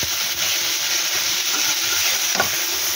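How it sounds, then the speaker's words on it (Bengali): Food frying in a pan ahead of adding prawns, a loud, dense, continuous sizzle up close with faint stirring movements underneath and no voices. "আর একটু ভাজা ভাজা হলে আমি চিংড়ি মাছ দেবো"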